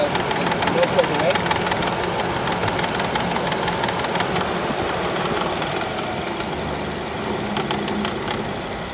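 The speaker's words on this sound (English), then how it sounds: "we can see the AC fan vibrating. There's probably a bad bearing in there." An Infiniti QX60 idles with a steady engine hum while its AC fan, which has a bad bearing, adds a rough, rattling vibration; a person talks over it.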